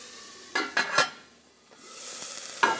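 Finely shredded carrots being stirred in a hot pan, a few short scraping stirs of a utensil over a steady soft sizzle, close and alone with no talk.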